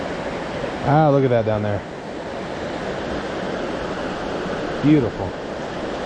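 Steady broadband rush of the waterfall at Dick's Creek Falls heard from the top of the falls, a constant wash of water running throughout while someone speaks briefly over it.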